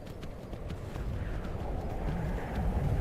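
Horse hooves clop rapidly in the Skyrim video game, a continuous galloping rumble with soft wind-like noise and no talking.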